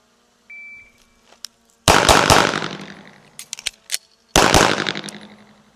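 Pistol shots fired during a draw and reload drill: two loud, sharp reports a few seconds apart, each ringing out into a decaying echo, with quieter handling clicks and taps between them.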